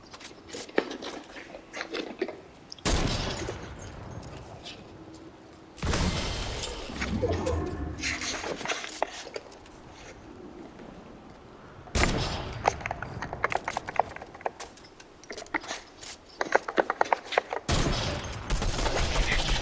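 Gunfire from a shooting video game: clusters of sharp, loud shots in several bursts with quieter stretches between, some rapid and rattling like automatic fire.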